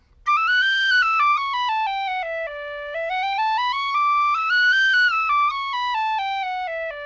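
A tin whistle plays a smooth melodic line that sweeps up and down between its low and high octaves, clear and loud with steady breath, alone without talk.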